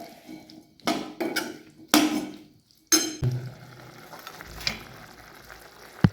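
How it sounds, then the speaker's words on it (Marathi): A guava curry cooks in gravy in a pan, heard as a few sudden bursts of sizzle and stirring scrapes with quieter bubbling gaps between them and a sharp clink at the end. "आपण आता ग्रेव्ही मध्ये टाकले. याला छानपैकी ग्रेव्ही मध्ये शिजून घ्यायचे अजून 1-2 मिनिटं."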